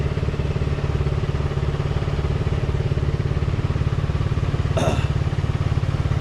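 A motorcycle used for daily riding idles steadily up close, its engine note a continuous even putter with a brief clatter or knock near the end and no talk over it.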